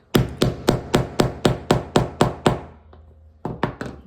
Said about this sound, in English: put this end of the hammering tool on the open side and hammer it